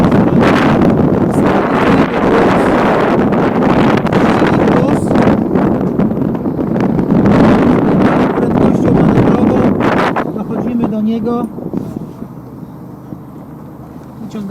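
Strong wind roars and buffets the microphone aboard a sailing boat in a harbour for several seconds, rumbling and gusting, then eases into a quieter, steadier blow.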